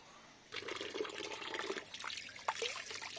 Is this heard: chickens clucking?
no